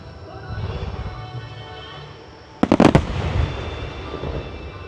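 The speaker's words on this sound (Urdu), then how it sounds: "دل کو ہلا دیتی ہے یہ آتش بازی." Fireworks exploding in Japan: a low crowd murmur, then a tight cluster of sharp cracking bursts, loud and fairly near, with a rumbling tail as the voices continue.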